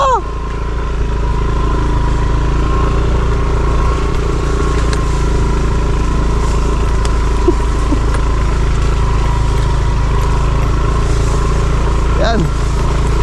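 A motorcycle engine runs steadily for the whole stretch, a continuous close rumbling drone with no revving.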